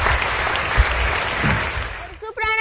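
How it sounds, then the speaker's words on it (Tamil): Studio audience applause for performers on a Tamil TV show, a dense, loud wash of clapping that fills most of the clip before giving way to a voice at the end. "நல்ல ஒரு கைதட்டு வேணும்"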